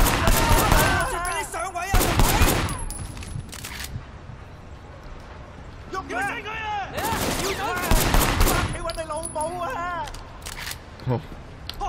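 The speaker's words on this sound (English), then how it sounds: "Oh shoot! They're firing!" Enemy gunfire from the Sleeping Dogs video game erupts in sharp, loud bursts and volleys, mixed with game effects, while someone talks excitedly over much of the action.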